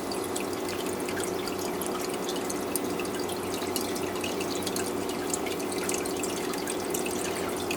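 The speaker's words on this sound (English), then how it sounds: "this is a liquid transfer pump, and it comes in really handy for doing water changes" Aquarium water draining through a liquid transfer pump into a 5-gallon bucket, a steady close trickling and splashing wash that runs without a break and with no talk.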